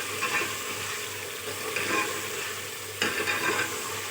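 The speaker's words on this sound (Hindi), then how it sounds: "सारी चीज़ें डालने के बाद थोड़ा सा मिक्स कर लेंगे" Whole spices, black cardamom, black peppercorns, cloves and cumin, sizzle steadily in hot oil while a spoon stirs them in slow sweeping passes, close and moderately loud, with a brief scrape near the end and no speech.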